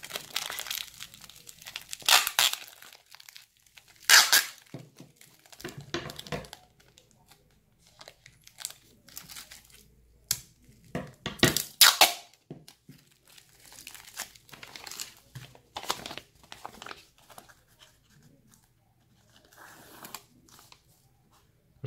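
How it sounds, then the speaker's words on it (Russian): Adhesive tape is pulled off a roll and pressed down in crackling, ripping bursts, separated by quiet pauses and some crinkling. "Сейчас мы еще скотчем."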